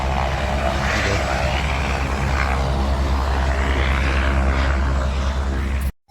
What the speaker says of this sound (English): You see helicopter.